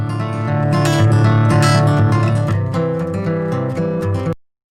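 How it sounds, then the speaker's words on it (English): A loud, dense music passage runs through Cubase's Detube plugin, which emulates tube amplifier saturation for added warmth. It plays steadily, then cuts off abruptly near the end. "We have Detube, which emulates a tube amplifier."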